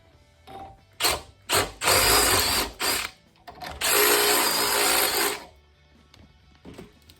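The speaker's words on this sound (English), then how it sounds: "We're just gonna hog them holes out a bit." A power drill bores out holes in a metal bracket clamped in a vise in a weld shop, whirring in several short bursts and then one longer grinding run, with quiet pauses between.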